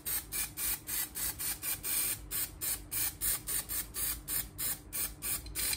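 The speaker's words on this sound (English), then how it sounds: "so let's start spraying" Short repeated hisses from a spray paint can coating a fishing antenna float, about three per second, a steady rhythmic series of bursts close by.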